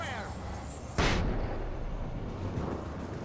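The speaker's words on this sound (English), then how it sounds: "That was my one and only flashbang." A flashbang bursts in Alan Wake 2 as a single loud, sharp blast, followed by a dense, ringing wash over a steady game ambience, with a voice talking over it.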